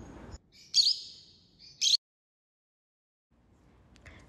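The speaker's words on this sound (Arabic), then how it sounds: "ويطلق طائر الروز صوتا يشبه الصرير عندما يحاول الانزلاق إلى الأسفل" A galah, the rose-breasted cockatoo, gives two short, shrill screeching calls close by, the second following about a second after the first, with quiet gaps and faint background rustle.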